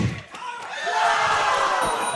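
A crowd at the H-Town Splashdown event roars and cheers, swelling from a few thumps into a broad, sustained wash of voices that holds loud to the end.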